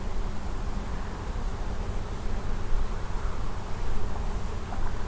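Bees buzz around an open beehive being worked barehanded: a dense, continuous droning hum that fills the space close by, swelling slightly at moments.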